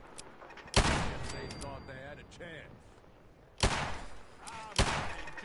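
Video game gunfire, three sharp, loud shots spaced a couple of seconds apart, with a player talking between them.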